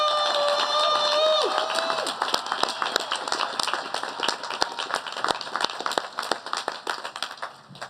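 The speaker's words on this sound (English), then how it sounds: "Let us give one final applause to all the graduates for their hard work and dedication." Audience applause for graduates at a community education center graduation ceremony, steady clapping from a crowd of many hands that thins into scattered individual claps, heard after a held musical tone fades out.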